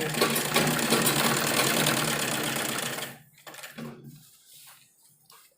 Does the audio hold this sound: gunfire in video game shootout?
no